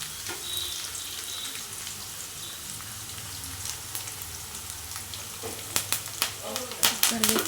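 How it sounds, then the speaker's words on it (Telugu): Onion and green chillies sizzle and fry in a pan for vegetable rice, a steady close hiss with sharper crackles and stirring clinks building toward the end. "ఇది కొంచెం వేగిన తర్వాత ఉల్లిపాయ, పచ్చిమిరపకాయలు"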